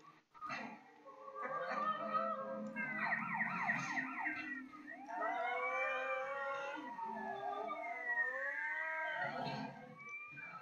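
Wailing police car sirens in Grand Theft Auto: Liberty City Stories rise and fall in overlapping tones, sweeping up and down continuously with a low rumble beneath, like two patrol cars chasing close behind.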